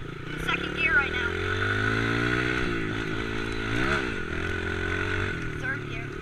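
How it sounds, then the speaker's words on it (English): Yamaha 110 dirt bike engine droning steadily in second gear, the pitch rising and dipping as the rider works the throttle, loud and close throughout with a voice faintly heard over it. "Yamaha 110 in second gear right now."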